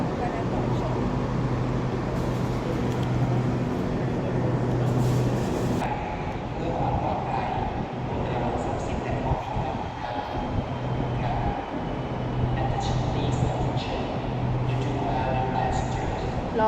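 Train noise in a Bangkok city rail setting, with a steady low rumble and clatter throughout, the sound swelling and easing over about seventeen seconds while someone talks over it.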